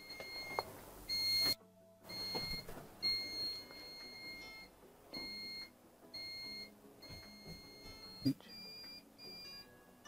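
Short electronic beeps repeat in a steady pattern, a Pyronix Euro-46 keypad chirping as an alarm system arms, with quiet room noise and brief talk between.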